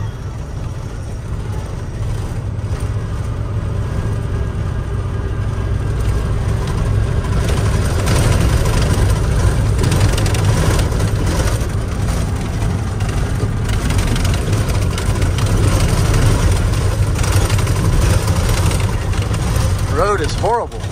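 A truck engine rumbles steadily in a deep idle while driving a rough road, swelling in a few gentle revs, loud and close from inside the cab, with occasional talk over the drone.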